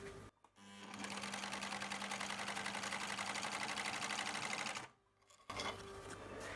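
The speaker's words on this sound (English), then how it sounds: "I'm using an overlock machine, and I'm attaching the outer arm piece to the band" An overlock sewing machine stitches fabric, joining an outer arm piece to a band for a children's fold-out couch: a steady, close, fast mechanical whir running for about four seconds, then a brief stop and restart.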